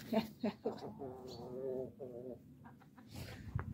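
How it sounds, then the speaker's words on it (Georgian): A rooster crows once in a drawn-out call, close by, with a person talking softly before and after it. "აი იცი მამალა ყინწა ეხლა ნახე."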